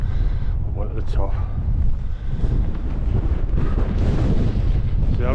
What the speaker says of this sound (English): the wind is just so strong